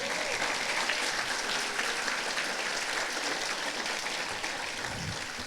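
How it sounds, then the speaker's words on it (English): A large audience at a memorial for Washington SyCip applauds in a steady, sustained round that stays full and even and eases only slightly at the end. "Would it be inappropriate to ask for another round of applause for Sylvia?"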